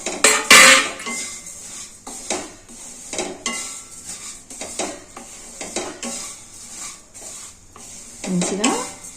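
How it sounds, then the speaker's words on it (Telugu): Semiya vermicelli roasting in melted ghee in a pan, stirred with a metal spoon that scrapes and clinks against the pan in repeated bursts over a soft sizzle, close and alone with no talk. "కొంచెం నెయ్యి కరిగినాక సేమియా వేయించుకోవాలి."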